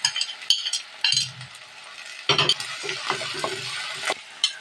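Crushed onion, ginger, garlic and curry leaves fry in a pan, giving a bright sizzle broken by stirring scrapes and a few sharp utensil clinks, rising and falling in short bursts with no talking.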